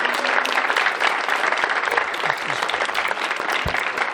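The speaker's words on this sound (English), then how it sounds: "Round of applause for Dr. Christy Talbot and her students" Jazz concert audience giving a hearty round of applause for a bandleader and her students, dense continuous clapping with a few scattered voices underneath.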